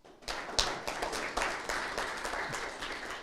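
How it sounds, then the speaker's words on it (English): Audience at a university intellectual property training session clapping together, a short burst of steady applause at moderate distance, fairly faint in a room. "I request you clap, please."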